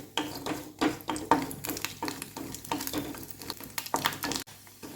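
Pieces of coconut fry in hot coconut oil in a pan, a steady crackling sizzle broken by repeated sharp stirring scrapes and clinks, fairly close and without any talk.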